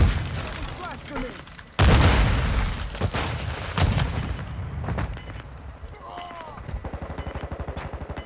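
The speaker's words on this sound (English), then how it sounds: "Flash grenade!" A flash grenade bursts in Call of Duty Modern Warfare II amid heavy gunfire, with a sudden loud blast followed by repeated shots and distant booms, and voices calling out over the combat.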